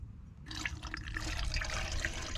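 Citronella oil is poured into an old lantern and starts half a second in as a close, bubbling trickle of liquid. It runs on steadily to the end, with no talk.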